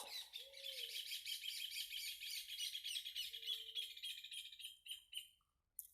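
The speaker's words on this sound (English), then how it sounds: "just letting the birds go nuts." Birds chirp busily and continuously, a dense chorus of rapid high tweets filling the whole stretch before fading near the end, with a couple of brief low tones in between.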